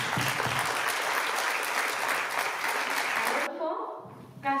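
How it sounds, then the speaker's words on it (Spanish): Strong applause from the audience at the closing event of the Ruta Teatralizada Mujeres de la Vera project in Losar de la Vera. Dense, sustained clapping fills the room for several seconds, then stops abruptly and a voice begins. "Un fuerte aplauso."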